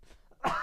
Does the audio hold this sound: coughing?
yes